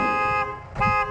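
Arriving at the building, a car gives two short, loud horn honks, close by and with a brief gap between them.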